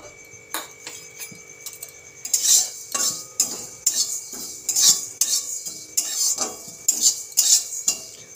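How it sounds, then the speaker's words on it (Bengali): Whole coriander, fennel and cumin seeds dry-roast in a metal pan on a gas stove, a spoon scraping and stirring in a steady repeated rhythm of clinks and scrapes with a faint sizzle. "এবার মশলাটা আমি ভেজে নেব"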